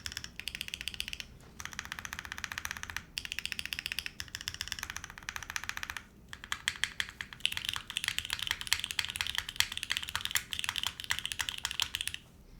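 Mechanical keyboard fitted with Cream Plus switches being typed on, rapid clacky keystrokes in bursts separated by brief pauses, close and crisp with no voices.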